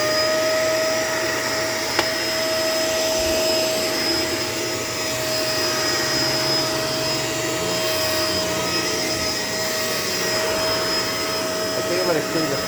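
A Shark LA702 vacuum cleaner runs indoors with a loud, steady motor whine and rushing airflow that holds constant throughout.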